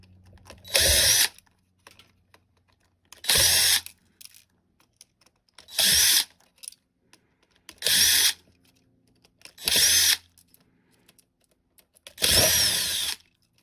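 A power drill removes screws from a Toyota Sienna dashboard in six separate bursts, each about a second long, with short quiet pauses between them, close and loud.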